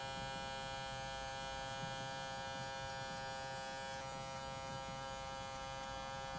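Electric hair clippers buzz with a steady, close, even whine while the corner of the blade cuts a burst fade, running alone without a break.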